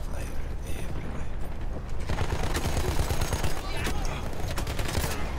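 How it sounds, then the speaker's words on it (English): Sustained machine gun fire on a Battlefield 1 battlefield, rapid mechanical rattling bursts layered over constant combat noise, with a person talking over it. "Oh, he got one shot at me now. Run in front of an MG."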